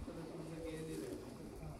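Pigeons coo in a hobbyist keeper's flock, soft low throaty calls repeating in short rolling phrases against a constant background murmur.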